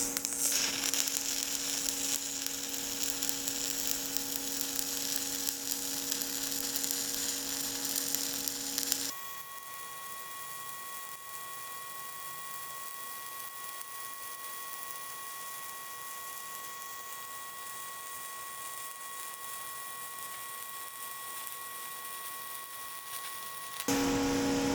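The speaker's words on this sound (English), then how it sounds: "I'm going to lay down a fillet weld using the Miller XMT 350 with a stick welder." A Miller XMT 350 running a stick welder lays down a fillet weld, a steady crackling hiss with an electrical hum that holds for most of the stretch and shifts once partway through.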